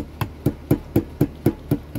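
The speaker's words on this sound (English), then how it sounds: "take a little hammer, give it a little tap in just to help get it started" A small hammer taps a screw to start it in scrap wood for a Christmas tree project, eight quick, even knocks in a steady rhythm, close and clear with no talking.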